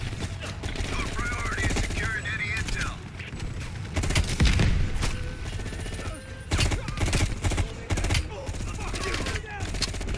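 M16 rifle gunfire in Call of Duty Cold War's Vietnam campaign, rapid automatic bursts with booming impacts and battlefield clutter, steady and fairly loud throughout, mixed under in-game chatter and effects.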